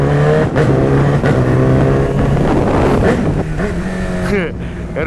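A Honda CB1000 motorcycle being ridden, its engine droning loudly and close with rising and falling revs against wind noise, while people talk over it.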